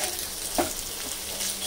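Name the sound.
potatoes sizzling as they roast in a pan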